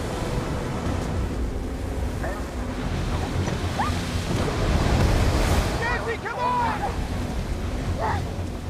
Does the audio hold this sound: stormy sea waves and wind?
yes